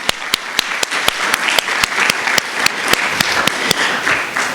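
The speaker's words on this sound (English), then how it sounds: "Can we just give her a major round of applause?" An audience claps for an events coordinator at a faculty and staff awards ceremony, a crowd's brisk applause swelling into a steady patter with several sharper, louder individual claps standing out throughout.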